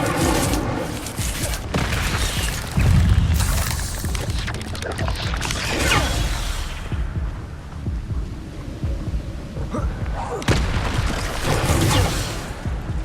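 Incendio fire spells cast in the Hogwarts Legacy video game, loud booming blasts and crackling bursts in quick succession over dense, rumbling battle noise, with a few sharp hits standing out near the start and end.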